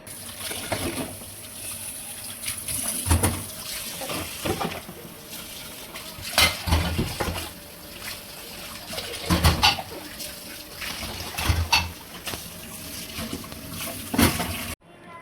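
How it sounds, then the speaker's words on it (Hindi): Dishes being washed in a kitchen sink: steady running water from the tap with repeated clinks and clatters of pots, plates and cutlery, close and fairly loud for the whole stretch, with birds faintly audible. "ये जी मैंने बर्तन सारे धो दिए हैं"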